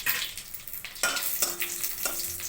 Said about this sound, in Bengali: সর্ষেটা ফুটে গেছে এখন আমি দিচ্ছি দুটো তেজপাতা